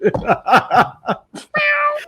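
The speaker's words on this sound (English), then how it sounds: "And that poor little white cat." A small white cat meows in a short drawn-out call near the end, after a stretch of speech-like sounds that may be laughter or chatter.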